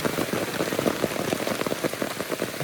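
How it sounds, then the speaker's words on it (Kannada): Heavy rain pours steadily in Sakleshpur, a dense close hiss of drops hitting a surface without a break. "ಇವೆಲ್ಲ ಮಳೆ ಆಗ್ತಿದೆ"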